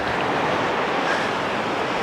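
Incoming tide on a Bristol Channel beach, a continuous broad roar of surf with wind buffeting the microphone, steady and loud throughout.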